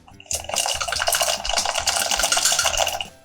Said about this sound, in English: Now we want to dump the contents out of the food processor into the strainer